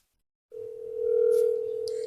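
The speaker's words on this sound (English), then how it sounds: "Just call him until he picks up like you did with Gavin." A phone call's ringing tone starts after a half-second of silence and holds as one steady, clear electronic tone to the end, with faint voices around it.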